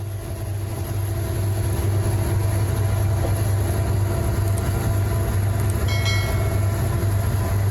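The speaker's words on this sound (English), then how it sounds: "It's not uncommon on Union Pacific to see locomotives like this dead in tow on a manifest freight train." A Union Pacific manifest freight train rolling steadily past, heard as a loud continuous rumble with a low droning hum and faint clanks and squeals of railcars, without talk.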